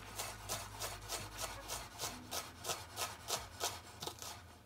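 A knife cuts shallots on a wooden board in a quick, even rhythm of about a dozen soft, close strokes, each with a brief scraping rasp.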